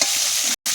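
Chunks of elephant foot yam and potatoes fry together in a pan, a steady close sizzle with stirring that cuts out for a brief moment before resuming.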